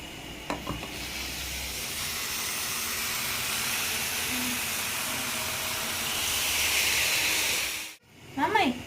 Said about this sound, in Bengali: এখানে চাউমিন ভাজা চলছে